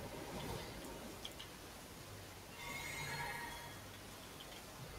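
A summoned spectral steed in Elden Ring gives a single faint whinny midway through, with soft hoof clops and quiet game ambience around it.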